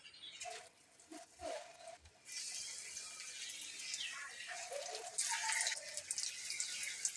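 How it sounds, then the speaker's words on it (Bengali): Cauliflower chops deep-fry in hot oil, a bright, hissing bubble that swells after a few soft drips and clinks, then continues fairly close and steady to the end. "একই রকমভাবে বাকি সবগুলো ভেজে নেবো"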